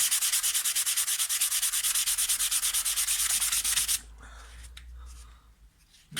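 Sandpaper rubbed steadily over a wooden car interior trim piece, a loud, close, even rasping in rapid back-and-forth strokes that stops abruptly, leaving quiet handling sounds.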